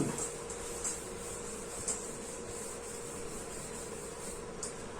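Eraser rubbing out writing, a soft steady scratchy friction close by and fairly faint, with a few brief sharper squeaks scattered through, no voice.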